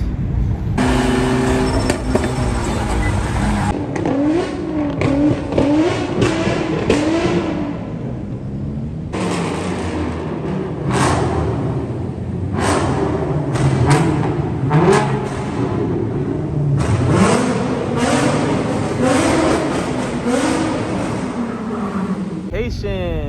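Cars drive past with engines revving and whooshing loudly in a continuous stream of passes, while people's voices can be heard talking in the background.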